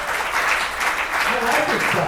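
An audience claps along at a motivational speech, a dense, steady patter of many hands that carries on while a speaker's voice rises over it.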